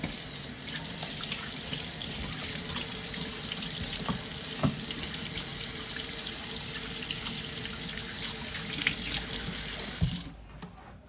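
A kitchen tap runs steadily while hands are washed under the stream, a close, continuous rush of water with small splashes, cutting off abruptly near the end.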